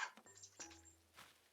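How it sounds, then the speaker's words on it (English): A dog whines briefly to be let outside, a faint, high, drawn-out whimper in a quiet room, over in under two seconds. "And now the dog wants out."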